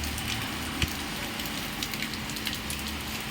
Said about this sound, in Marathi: म्हणून आमच्याकडे पाऊस आहे